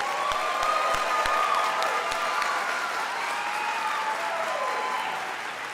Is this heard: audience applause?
yes